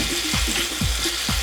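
Beef seasoned with salt and pepper frying in a pan makes a continuous close sizzle, with a short rhythmic scraping pattern repeating under it and no voices.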